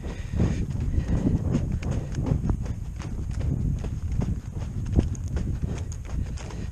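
A ridden horse walks on firm ground, its hooves clip-clopping in a steady, even rhythm close by for several seconds.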